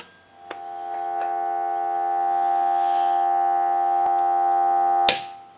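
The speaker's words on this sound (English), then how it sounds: "And we'll give you some dial tone." A steady electronic dial tone hums continuously for several seconds on a Western Electric 500 rotary telephone, with a few faint clicks and a short burst of noise near the end.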